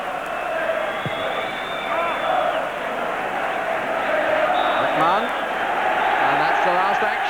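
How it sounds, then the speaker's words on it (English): A large football stadium crowd applauds and cheers the Liverpool team at half-time against Auxerre, a steady roaring wash of clapping and voices with a commentator talking over it. "Great applause for the Liverpool team"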